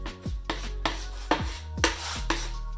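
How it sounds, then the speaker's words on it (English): A plastic scraper drawn across a snowboard base during a gouge repair, making about six rhythmic rasping strokes roughly half a second apart, each a bright scrape with a soft knock at the start, close up and alone over a low hum. "then scrape it once more and then we're done"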